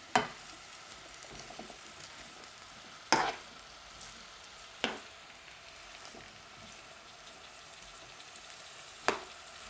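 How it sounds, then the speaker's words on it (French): Vegetables softening in a pan give a quiet, steady sizzle broken by a few sharp clinks of a utensil against the pan, close and without voices. "Vous laissez tout ça cuire un tout petit peu, le temps que les légumes ramollissent un peu"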